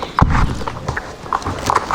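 Hooves of a horse in the video game Star Stable Online clip-clop in a quick, uneven rhythm during its western festival, loud and close over continuous game ambience.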